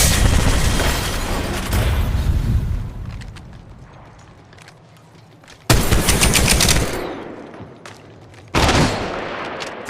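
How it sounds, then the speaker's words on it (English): Automatic gunfire in the mobile shooter Apex Legends Mobile comes in three loud, close bursts of rapid shots, with quieter gaps between them. "Shooting."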